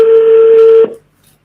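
Single steady telephone tone, clean and loud, held for under a second before cutting off abruptly into silence, like a keypad or dial tone while placing a call.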